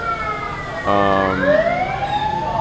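A siren wails and sweeps through rising and falling tones, fairly loud and close, with a brief burst of layered horn-like tones partway through.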